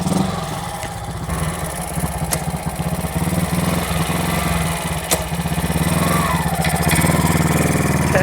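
A Benelli motorcycle engine running steadily after being restarted, a loud, close, continuous mid-pitched drone with a rough idle rhythm and a slight rise in revs toward the end.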